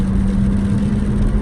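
Kia XCeed First Edition accelerating in sport mode, a steady mid-pitched engine drone with a strong low hum, close and fairly loud with no talk over it.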